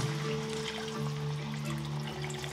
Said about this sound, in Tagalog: Tapos yan guys, ilalagyan na natin ng tubig.